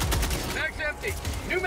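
Rapid automatic gunfire in the video game Helldivers 2 during a fight against automatons, loud bursts with a sharp, crackling texture that carry on through the whole moment while someone talks over them.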